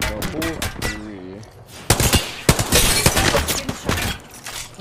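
Rapid automatic gunfire in the online shooter Apex Legends cracks out in dense bursts with breaking-glass and impact noises, loud and close, while a voice speaks over the opening moments.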